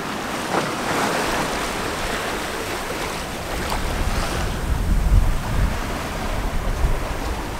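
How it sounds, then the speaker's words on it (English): Messy Atlantic waves wash and slosh around a 36-foot Beneteau sailboat mid-crossing, a continuous churning roar with gusting wind buffeting the microphone, swelling louder toward the end. "the waves are still pretty messy"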